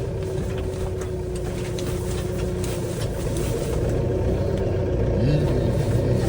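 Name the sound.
farm tractor engine running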